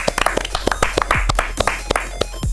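A studio audience at a comedy panel show for video games claps in quick, uneven bursts of sharp slaps, fairly close and loud, with a voice briefly audible.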